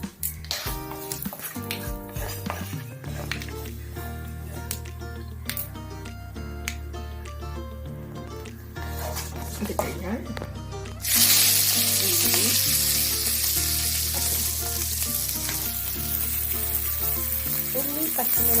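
Garlic sizzles and pops steadily in hot frying oil for spinach thoran, then the hiss jumps much louder partway through as more goes into the pan, a continuous close crackle with scattered utensil clinks and no talk.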